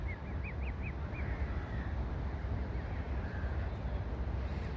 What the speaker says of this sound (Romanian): Ia uite câte rațe aveți acolo.